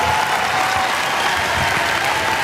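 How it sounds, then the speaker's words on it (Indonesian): Children applauding at a school graduation farewell, a dense, steady wash of many hands clapping together, loud and continuous throughout. "Silakan kalian tepuk tangan"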